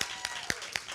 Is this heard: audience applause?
yes